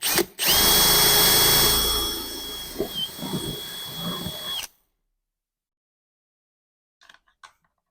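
A power drill bores into plastic clips for BMW angel eyes headlight rings, with a loud, steady high whine lasting about four seconds before cutting off abruptly, followed by a couple of faint clicks.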